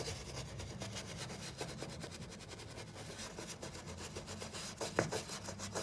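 A brush working furniture glaze into wood, quiet rapid scrubbing strokes rubbing back and forth in a steady rhythm, close and alone.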